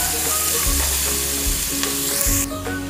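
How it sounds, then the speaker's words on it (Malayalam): Onion and slit green chilies sauté in hot oil in a pan while preparing a Malabar-style prawn fry. A steady, close sizzle of frying runs throughout with faint stirring and no talking. "ഇതിലേക്ക് നമ്മൾ കീറി വെച്ചിരിക്കുന്ന പച്ചമുളക് കൂടി ഇട്ട് കൊടുക്കാം. ഒന്ന് വഴറ്റി കൊടുക്കാം."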